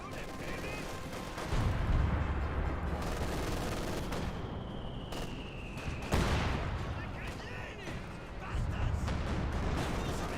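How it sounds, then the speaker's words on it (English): Grenadiers fire in a Company of Heroes 2 battle, a dense, loud clatter of rifle and machine-gun bursts with booming impacts and rumble, as a commentator talks over the fighting. "Grenadiers firing away."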